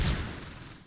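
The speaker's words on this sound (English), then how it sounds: "More mortars falling on K." A single mortar shell explosion in the Close Combat wartime strategy game, a soft distant thump that decays into a faint rumbling tail.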